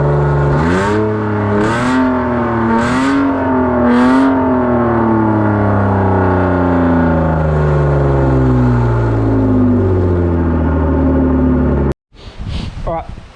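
A BMW engine fitted with a newly installed boot-mounted turbo is blipped four times in quick succession, then holds a loud, close drone whose pitch slowly sinks before cutting off abruptly.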